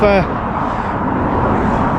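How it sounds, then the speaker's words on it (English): Steady roar of road traffic rumbling continuously nearby on the seafront between Morecambe and Blackpool, with a brief voice-like tone at the very start. "It's so noisy with the traffic."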